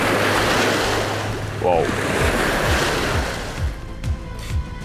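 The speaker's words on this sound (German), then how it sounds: "Jetzt kommen wieder riesige Wellen hier vorne." Large waves breaking along a lake shore during a fishing competition, with steady wind-blown surf wash and repeated low thumps of breakers close by; a brief exclamation from a person cuts through partway.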